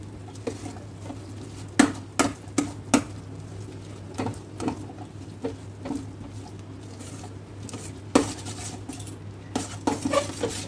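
A spoon stirring a thick milk cake mixture with ghee in a pan, giving irregular scraping clicks and taps against the metal. A low, steady hum sits beneath the stirring throughout.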